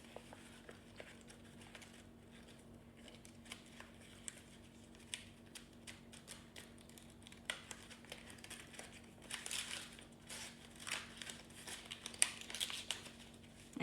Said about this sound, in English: Fold back open and put the bottom flap into the top flap.